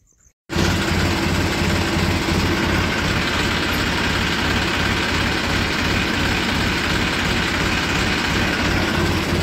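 A tractor engine starts and runs at night on a farm hauling sugarcane, a steady loud diesel throb with a pulsing low rhythm, close and continuous, with no talk.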